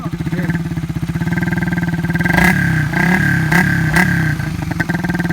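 Suzuki Raider 150Fi motorcycle fitted with a VMAX conical exhaust, idling with a fast pulsing putter and then revved in several sharp bursts, loud and close, with some talk around it.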